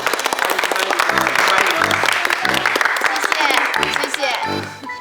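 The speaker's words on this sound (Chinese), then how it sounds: "我们大家鼓掌欢迎静雯加入我们" Applause breaks out as a group welcomes a new nurse colleague to a hospital ward team, clapping steadily for several seconds with voices talking over it.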